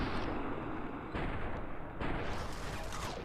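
Fallout New Vegas gunfire crackles in a dense, continuous burst of distant-sounding shots and booms that fill the short stretch with no talk.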